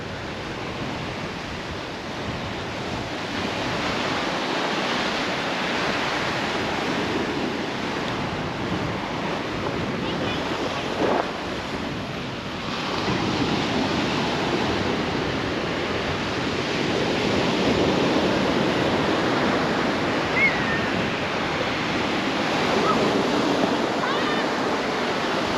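Strong wind and breaking surf on the Penang coast before rain, a steady, close, roaring wash that swells slightly toward the end, with a possible murmur of voices underneath.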